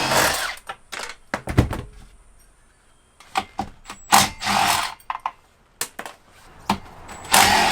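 An impact wrench taking out school bus seat bolts in short, loud, rattling bursts, close by, with pauses between them and some clanking of the tool and metal.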